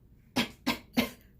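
A narrator reading a children's story aloud performs a small cough, three short, soft, evenly spaced coughs close to the microphone.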